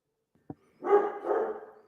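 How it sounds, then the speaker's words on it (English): A dog barks indoors, a single short yip followed by a longer, drawn-out bark-howl, fairly close and loud against a quiet background. "Sorry about my dog barking."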